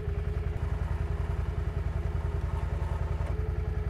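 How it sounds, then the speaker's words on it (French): A quad bike engine runs steadily during a winch recovery, a rapid low pulsing idle with regular rhythmic beats, close and continuous with no talk. "Owen va s'écarter et on va pouvoir sortir le quad"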